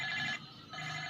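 A telephone rings indoors in short bursts, close and fairly loud, with a pause between two rings.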